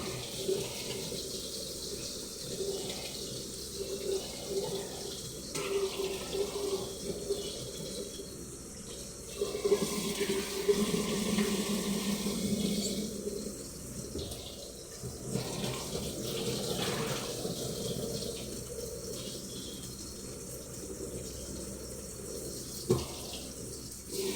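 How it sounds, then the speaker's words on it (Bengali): Rice being washed under a running kitchen tap, a steady faint stream of water with soft splashing and swishing that rises and falls as the grains are rinsed. "ভালো করে চাল না ধুলে না ভাতটা সুন্দর হয় না,"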